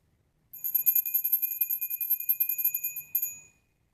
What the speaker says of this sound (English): the reason why I rang that bell now is because that is when I was finished